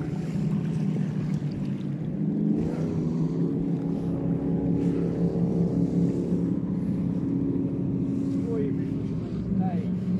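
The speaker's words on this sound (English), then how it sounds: "I don't think I've ever seen this many jet boats in my life before" More jet boats keep coming along a river in the Mackenzie Country, a continuous engine drone that swells as each one passes at moderate distance, with faint voices talking underneath.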